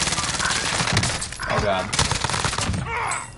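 Rapid automatic gunfire in a video game shooter with a MAC10 and Kar98 loadout, loud bursts rattling through the clip while players talk excitedly over it.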